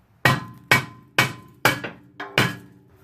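Hammer blows strike a stuck rear brake rotor on a Mitsubishi Outlander, five sharp metallic hits spaced about half a second apart, loud and close with short ringing decay and no talk.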